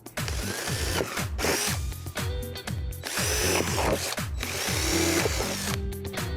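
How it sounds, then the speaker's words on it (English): A power drill whirs in repeated short bursts, biting through a plant pot with rising and falling pitch, loud and close with no speech. "So I'm gonna drill some holes here to run the zip ties through."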